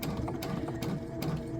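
A domestic sewing machine stitches a small quilt block piece at a short 1.8 stitch length, giving a steady close-up whir with soft rhythmic needle clicks recurring about every 0.4 seconds.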